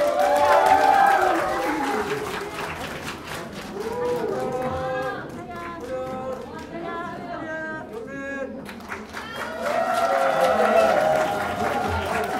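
Audience applause and cheering fill a room after a group skit at a church congregation retreat, with voices rising above the clapping; the applause swells loudly at the start, thins in the middle and builds again near the end.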